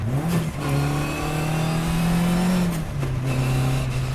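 Engine of a 1957 Lotus 7 racing car revving steadily up close, the pitch dipping and then climbing again as the driver downshifts into second gear, loud and continuous with no talk over it.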